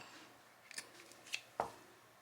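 Scissors snip down a row of fluffy material for a dollar-store gnome craft, three quiet, separate cuts, close up but faint, in an otherwise quiet room.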